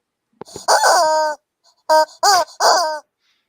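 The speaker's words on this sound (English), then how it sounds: "a visit from the chicken." A chicken sound effect with a brief tap, then one drawn-out squawking cluck followed by three quick loud clucks in a row, close and clear against silence.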